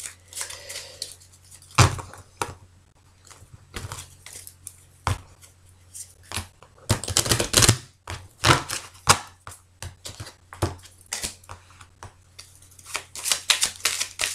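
A deck of tarot cards being cut and handled close up: soft irregular riffles, slaps and taps of cards, with a denser flurry of shuffling in the middle, quiet and without speech.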